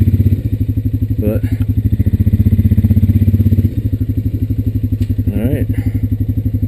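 A Honda Rancher 420AT ATV engine idles and chugs with a steady, close low putter as it backs up slowly on a trail, the rhythm shifting slightly midway, while someone speaks briefly over it.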